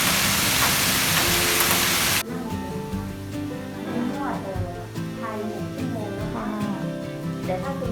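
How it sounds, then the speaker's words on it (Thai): Rain falls steadily at a beach resort in Phuket, beginning as a loud, dense hiss, then dropping to a softer, continuous patter under background sounds and faint voices. "ฝนตกค่ะ"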